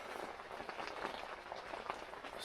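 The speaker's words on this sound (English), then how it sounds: "Steady raining." Steady rain patters on a tent pitched on a mountain during winter camping, a dense continuous hiss close by with scattered brighter drop taps and no voices.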